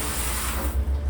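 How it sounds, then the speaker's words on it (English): Water from a hose sprays steadily onto a freshly painted car during washing, a close, continuous hissing wash with no voices. "I'm gonna spray the first half already before it's getting dry again."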